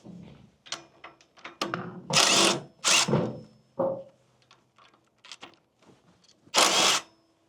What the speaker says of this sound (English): now we're just going to go through the process of removing that bolt and removing the 2 from the other side